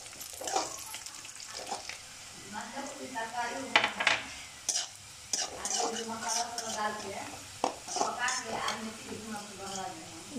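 Green chillies hit hot oil in a pan and sizzle steadily, with occasional utensil clinks, while a person talks over the cooking.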